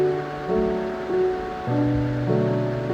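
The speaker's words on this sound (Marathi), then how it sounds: "हे मिश्रण आपल्याला अशा प्रकारे वाटून घ्यायचे की बटाट्याचे अख्खे काप राहता कामा नये" A mixer grinder whirs as it blends potato, chilli and curd with no water added. The motor hum is steady and changes pitch in several steps, loud and close throughout.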